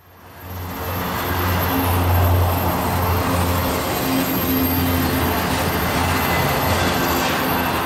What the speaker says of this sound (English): As this train was entering the siding, it has slowed down to restricted speed.